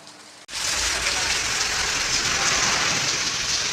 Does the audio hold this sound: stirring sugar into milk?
no